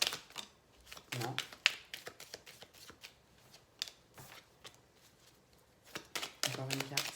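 Tarot cards are shuffled and drawn in a run of crisp riffles and flicks that repeat at an uneven pace, close and clear, with someone speaking French in between.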